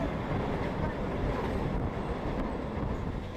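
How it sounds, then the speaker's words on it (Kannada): A Hubballi to Arasikere MEMU train rolls into Harihar railway station toward platform 3, producing a loud, continuous rumble of wheels and carriages that stays close and steady throughout. "ನಮ್ಮ ಟ್ರೈನ್ ಈಗ ಎಂಟ್ರಿ ಆಗ್ತಿದೆ ಹರಿಹರ ರೈಲ್ವೆ ಸ್ಟೇಷನ್ಗೆ"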